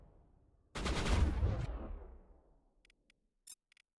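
A heavy burst of automatic gunfire in the video game Mass Effect Legendary Edition, a loud rapid volley lasting about a second that decays into a rumbling echo, followed by a few faint clicks and ticks.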